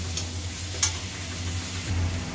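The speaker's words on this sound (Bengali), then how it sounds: "মশলাটাকে এবার ভালো করে কষবো যতক্ষণ না তেল বেরিয়ে আসে" Spice paste frying in oil in a wok, a soft steady sizzle with a couple of brief stirring scrapes, close and quiet.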